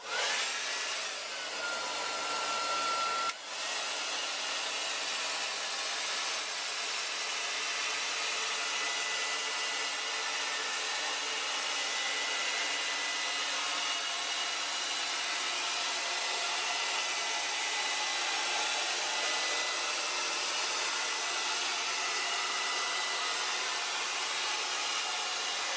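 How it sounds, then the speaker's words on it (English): A hot air blower heats the glue of a window kit, a loud, steady whooshing roar that runs continuously up close, with one brief dip early on before settling into an unbroken drone. "I usually run around the outside edge and heat that glue in real well"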